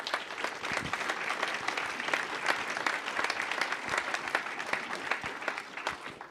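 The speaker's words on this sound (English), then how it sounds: "so please give them a round of applause" An audience at the 38th Prairie Preview event claps together in a steady, dense round of applause lasting several seconds, even in loudness throughout, with a faint crowd murmur beneath.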